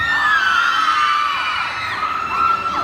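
An indoor crowd at a mini motor show in a shopping mall in Tha Phra screams loudly and continuously, with high-pitched shrieks and cheers rising and falling for the whole stretch.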